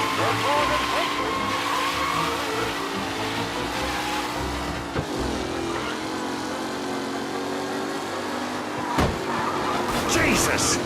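Race cars in the Mafia Definitive Edition video game roar around a circuit with engines droning and tires skidding, close and loud, ending in sharp crash-like bursts as voices talk over the racing.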